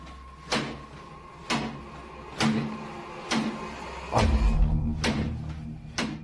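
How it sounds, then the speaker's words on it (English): A kitchen cupboard door bangs shut again and again, about six sharp wooden knocks spaced roughly a second apart, each ringing briefly, with a louder, heavier rumble near the end. "The culprit in the kitchen cupboard, whose door is banging over and over again."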